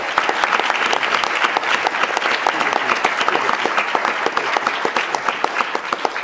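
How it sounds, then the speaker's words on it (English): A conference panel audience applauds steadily, dense even clapping filling the room for several seconds without a break or a clear peak. "So let's give them a round of applause."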